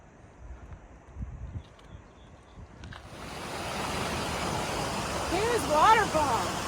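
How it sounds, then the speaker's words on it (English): A waterfall along a snowy mountain hiking trail on the Pacific Crest Trail near Mather Pass: quiet rustling at first, then a steady, broad rushing roar builds in and holds, with faint voice-like sounds over it. "waterfall. Water everywhere."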